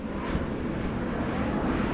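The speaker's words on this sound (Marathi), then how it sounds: "कसलाही विमान जवळून जातोय." An airplane passes close overhead near a hilltop fort, a steady, loud broadband roar of engine noise filling the whole stretch without breaks and with no talk over it.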